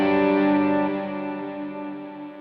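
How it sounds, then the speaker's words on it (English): Guitar through a delay effect on a Line 6 HX Stomp XL, a single sustained chord ringing out and slowly decaying with trailing repeats, loud and close. "I'm gonna put the delay on."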